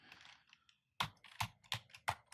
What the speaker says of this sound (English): Whipping out the keyboard.